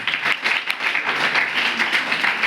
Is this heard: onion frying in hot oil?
no